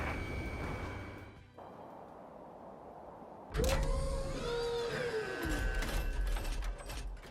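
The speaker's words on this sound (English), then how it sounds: "UAVs ready to launch" UAVs launching in the Ace Combat 7 video game: after a low steady hum, a sudden loud mechanical whir kicks in with rising and falling whining tones and a rushing whoosh that carries on to the end.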